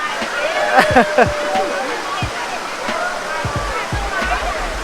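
Water of Kinnari waterfall at Phu Langka in Bueng Kan pours in a steady broadband rush, with voices and splashes mixed in near the microphone throughout.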